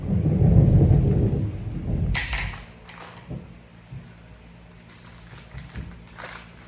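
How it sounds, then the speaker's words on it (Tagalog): A deep rumble of thunder rolls loudly for about two seconds during heavy rain, then fades into quieter background noise broken by a few faint knocks. "Ay, buti tumigil na yung ulan, napakalakas ng ulan."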